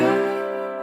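Bottleneck slide guitar played without damping the strings behind the slide, giving a single sustained ringing note full of overtones that fades slowly over about a second.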